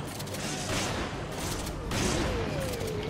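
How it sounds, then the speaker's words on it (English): A shotgun fires during combat in Resident Evil 5, with heavy booming blasts and mechanical clatter layered over a dense, continuous game soundscape of noise and effects. "Shotgun to your face."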